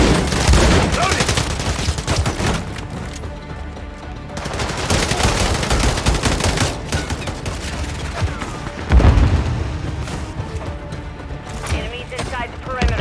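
Akimbo shotguns and other weapons firing in a Modern Warfare 3 hardpoint match, dense, loud bursts and heavy blasts overlapping almost constantly, with in-game voice callouts heard over the shooting.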